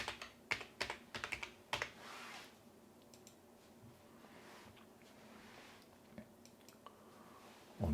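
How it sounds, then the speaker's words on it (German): Someone types a password on a computer keyboard, a quick burst of close, crisp keystrokes followed by a few scattered taps in a quiet room. "Und dabei auch das Passwort nochmal eingeben."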